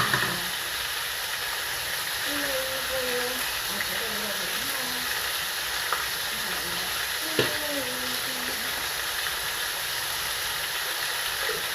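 Goat and lamb meat for a Haitian stew sizzling in a pot as it releases its own water, a steady even hiss throughout with faint occasional clinks and no talk.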